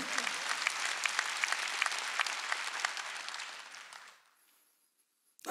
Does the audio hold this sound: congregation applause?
yes